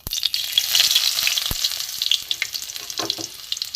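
Chopped garlic hits hot oil for a tempering in an egg dal, giving a loud, steady sizzle and crackle with brief louder spits and the occasional clink of stirring.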